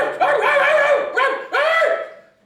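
A dog gives three loud, close barks with short pauses between, each bark ending in a drawn-out whining tail, the last fading away.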